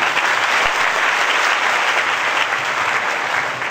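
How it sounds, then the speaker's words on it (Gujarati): A large satsang audience claps loudly and continuously, a dense, even wash of applause sustained throughout without a break. "જોરથી વગાડો તાળી."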